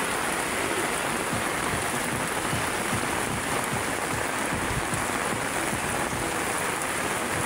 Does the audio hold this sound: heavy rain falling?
yes